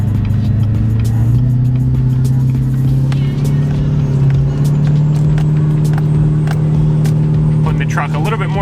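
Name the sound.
big turbo Duramax truck towing up a steep grade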